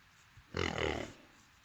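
A single loud, harsh vocal snort-whinny from a nearby horse, lasting about half a second, rising abruptly out of a quiet background.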